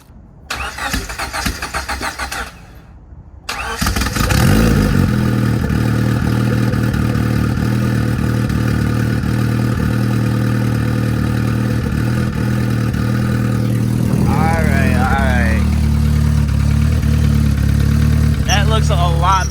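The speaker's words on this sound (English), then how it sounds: "Let's get another little cold start." A turbocharged Honda Civic fires up from cold after a short crank, settling into a loud, steady, rumbling idle close by, with brief wavering whistly tones partway through.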